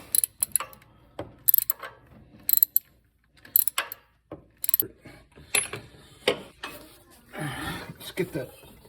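Socket ratchet turning a bolt during an alternator replacement on a 1967 Ford Mustang with a 289 engine, giving bursts of close, sharp clicking in short spurts with pauses, with people talking in between.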